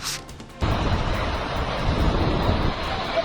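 Floodwater rushes in a steady, loud, broad roar around a petrol pump, surging in after a brief quieter moment and continuing unbroken.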